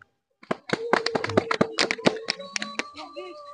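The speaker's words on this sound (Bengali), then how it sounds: "আমার সহপাঠী ভাইরা যারা আমাদের সাথে আসছে সবার জন্য একটা তালি হয়ে যাক" A group of people clap their hands together in a lively burst of uneven claps, starting abruptly and continuing for a few seconds before thinning out.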